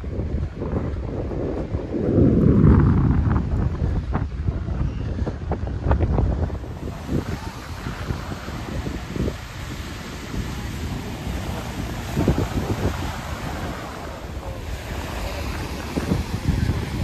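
Ocean waves break and wash in over wind buffeting the microphone at Miami's South Beach, a white-sand beach, with a loud rush early on that settles into a steady roar of surf and gusts.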